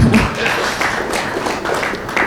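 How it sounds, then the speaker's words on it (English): An audience at a fintech panel discussion gives the panelists a round of applause, with dense, steady clapping from a crowded room that fades slightly. "we can show the panelists some applause"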